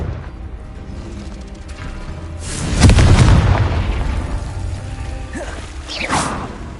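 A loud booming blast from the Confringo fire spell in Hogwarts Legacy erupts near the middle and rumbles before fading, over a steady background of game ambience.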